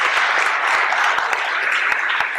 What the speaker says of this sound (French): Merci beaucoup, Monsieur Pestre et Monsieur Chaise. On peut vous applaudir